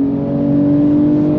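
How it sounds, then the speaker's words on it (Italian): A 2022 BMW M240i Coupé with 374 hp revs under acceleration, heard from inside the cabin as a loud, steady, droning engine tone that holds at a high pitch. "Bellissimo come suona questo motore"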